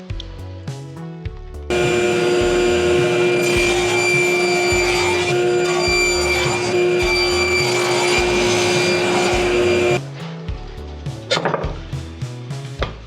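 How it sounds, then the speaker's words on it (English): A power saw whines loudly as it cuts through a Sapele hardwood board for a cutting board, one sustained steady cut lasting about eight seconds, with quieter workshop clatter and handling knocks before and after. "I'm going to start by cutting up this Sapele board I have here."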